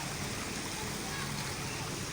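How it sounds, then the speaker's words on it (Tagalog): Water trickles and flows steadily in a small stream along a riverbank, a continuous close wash of noise with no pauses. "Yan ang tagas ng tubig mo"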